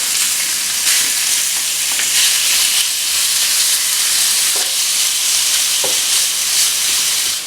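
Diced turkey sizzles steadily in a hot pan, a continuous bright frying hiss with occasional soft stirring scrapes and pops, close and fairly loud with no voices.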